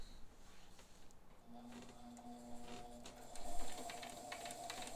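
Bernina 530 Record sewing machine running a straight stitch, a steady mechanical whirr with rhythmic ticking that picks up in speed toward the end, quiet and close with no talking.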